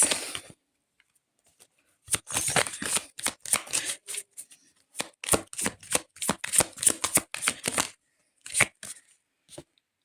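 Tarot cards shuffled by hand in bursts of crisp riffling and flicking clatter, a short pause and then a long, dense run of rapid card snaps, close and fairly quiet with no talk.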